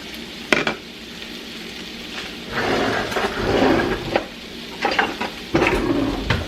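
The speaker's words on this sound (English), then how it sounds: "we're going to give that a quick stir" A spoon stirs and scrapes rice inside a boiling pot over a steady bubbling sizzle, with a few sharp metallic clinks and bursts of stirring noise.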